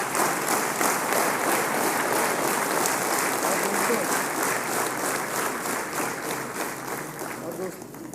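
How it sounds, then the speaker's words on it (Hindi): Audience applause at a national convention as a guest is honoured, loud sustained clapping from a large crowd throughout, easing slightly toward the end, with voices mixed in. "जोरदार तालियों के साथ।"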